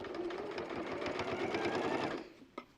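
Sewing machine with a walking foot stitching a cushion seam, a fast, continuous rattling hum for about two seconds that stops abruptly, followed by a couple of small clicks.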